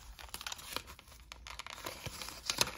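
Plastic and cardboard packaging of a Lip Smacker Lippy Pals lip balm is pulled open up close, giving a string of quick crinkles, small rips and tearing snaps without anyone speaking.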